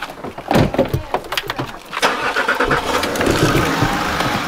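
A car engine starting: a few sharp clicks and a cranking whir, then the motor catches and settles into a loud, steady idle close by.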